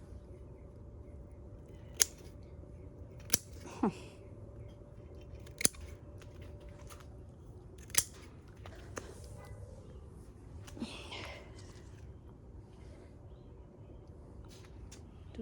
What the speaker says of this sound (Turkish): Budayayım ki şurada da tam valla makasım varmış.